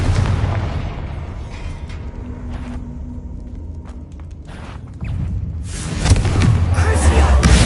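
A blast spell detonates in a wizarding video game, a deep rumbling boom that swells into a loud, roaring burst toward the end, heard over steady low rumble with a voice talking.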